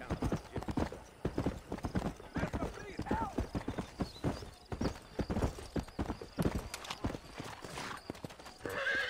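A horse gallops in Red Dead Redemption with rapid, steady hoofbeats close up and an occasional whinny, while a player talks over the ride.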